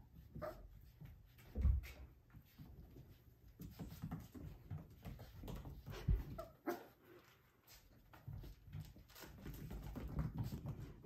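Five-week-old F1b Cavapoo puppies whimper, yip and make small barks in scattered bursts, fairly quiet and close, with no one talking over them.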